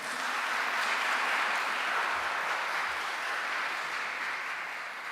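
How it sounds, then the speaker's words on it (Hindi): Sustained applause from a church congregation during a Sunday Eucharistic celebration, a steady wash of many hands clapping at even strength for about five seconds and tapering slightly at the end, with no talk over it. "आपकी भरपूर तालियों में।"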